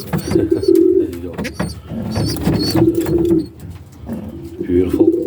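Young pigeons coo close by in soft, repeated low calls, mixed with nearby handling noises as the birds are moved back into a bowl.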